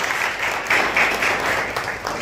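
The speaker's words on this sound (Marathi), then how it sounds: "आपण त्यांचं जोरदार टाळ्या वाजवून" An audience at a teacher training centre claps steadily and enthusiastically for a visiting block development officer, a dense continuous round of applause throughout.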